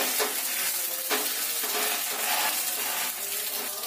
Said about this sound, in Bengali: একটু মচমচে করে ভেজে নিতে হবে